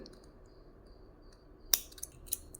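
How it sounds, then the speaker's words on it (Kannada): Scissors snipping yarn for a baby tassel, a few quick sharp close snips near the end after a quiet stretch. "ನಿಮಗೆ ಎಷ್ಟು ಬೇಕೋ ನೋಡಿಕೊಂಡು ನೀವು ಇದನ್ನು ಕಟ್ ಮಾಡ್ಕೊಳ್ಳಿ"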